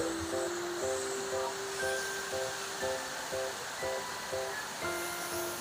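The Huai Mae Khamin waterfall in Kanchanaburi gives a steady, dense rushing roar throughout, with a simple melodic tune of repeated notes playing over it.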